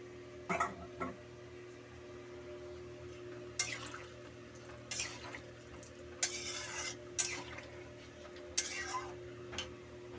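Water is poured into a fish curry seasoned with cumin powder, salt and turmeric, giving a few short splashing bursts over a steady low kitchen hum, with faint ticks between them.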